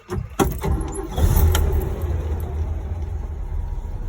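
A 1982 Toyota FJ40 Land Cruiser under restoration cranks and catches after a couple of sharp clicks, then settles into a loud, steady, rumbling idle close by.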